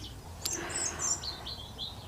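Small birds chirp in short high tweets scattered across a couple of seconds over a quiet, faint background, with no talking.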